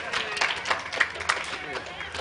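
People in a synagogue clap during a Simchat Torah gathering, a few loose, uneven claps under someone speaking close by and a soft crowd murmur.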